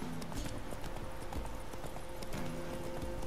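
Steady clip-clop of horse hooves trotting at an even rhythm in The Witcher 3: Wild Hunt, close and continuous, with a faint background hum.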